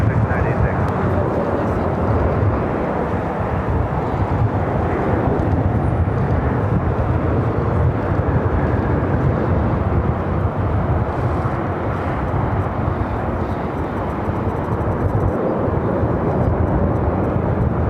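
An airliner takes off from a runway at LAX, a loud and continuous jet roar that holds steady throughout. It is mixed with wind and indistinct radio or voices.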